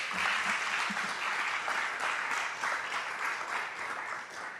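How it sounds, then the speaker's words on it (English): Steady, sustained applause fills a board meeting room as an audience claps for students' artwork, a dense even patter of many hands with no break in the middle. "we could give them one more round of applause for their great artwork"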